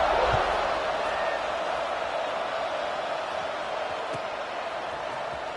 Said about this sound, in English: this crowd is buzzing after that last score